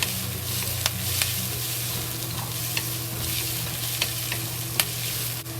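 Scrambled eggs and collard greens with black pepper and soy sauce fry in a pot, a constant close sizzle broken by scattered crackles and the scrape of stirring.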